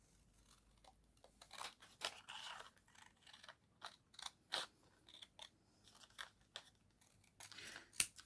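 Scissors cut paper for a recycled junk journal pocket, giving a string of close, crisp snips and crunches at an irregular pace, quiet overall and with no talking.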